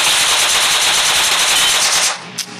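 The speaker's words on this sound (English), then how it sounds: "I think I heard gunshots." Rapid bursts of automatic gunfire in a video game rattle loudly and continuously for about two seconds, then cut off, leaving a brief faint echo.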